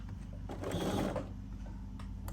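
A sewing machine stitches a quilt block in a short steady run, its needle mechanism whirring and clattering close by with no talk.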